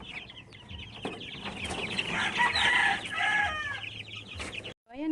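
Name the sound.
bantam chickens clucking and crowing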